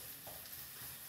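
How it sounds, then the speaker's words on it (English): Pork sizzles in a pan for sausage cream sauce, a soft steady frying crackle at low level with faint stirring scrapes, no voices. "the pork is sizzling away over here"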